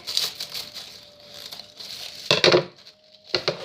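Plastic crinkles and rustles close by in uneven bursts, with a louder crumpling flurry near the middle and another at the end.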